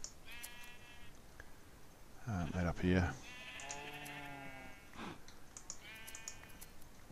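Sheep in the game Minecraft, played with the Tekkit modpack, give several wavering bleats spread across the clip, some loud and some softer, while someone talks over them.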